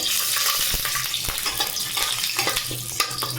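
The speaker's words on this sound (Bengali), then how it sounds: "এবার আমি বাদাম ভেজে নেব" Steady, close sizzling of peanuts frying in a pan, with occasional stirring clicks and scrapes cutting through the constant hiss.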